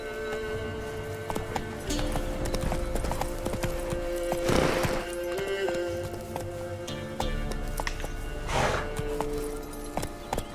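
Roach, Geralt's horse in The Witcher 3, gallops with rhythmic hoofbeats under a sustained game music score, with a couple of louder whooshing bursts and a brief whinny-like sound.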